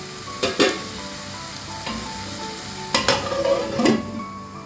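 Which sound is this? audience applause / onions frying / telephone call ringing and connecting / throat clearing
onions frying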